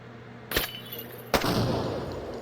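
Frag grenade blast in the tactical shooter Door Kickers 2: a sharp crack followed moments later by a louder explosion that leaves a lingering rumbling tail, heard over faint background ambience.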